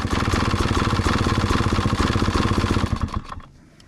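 A 2022 Beta 200RR Race Edition two-stroke dirt bike engine idles up close with a fast, rattly, pulsing beat, then cuts out and fades into quiet near the end.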